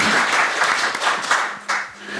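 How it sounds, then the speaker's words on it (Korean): Applause from the audience at an academic symposium marking the 70th anniversary of Korean liberation rolls through a conference hall to welcome a former unification minister, a dense burst of many hands clapping that swells and thins in waves. "박수로 환영해 주십시오."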